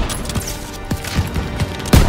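Rapid bursts of gunfire from Call of Duty: WWII crack repeatedly, punctuated by heavy cannon booms, the loudest landing near the end; busy, continuous battle noise without speech, from the stronghold mission.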